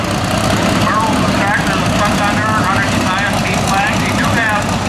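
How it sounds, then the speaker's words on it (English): A Case tractor engine roars steadily at a tractor pull, a loud continuous low rumble with a faint announcer voice over it. "And here comes a Case tractor."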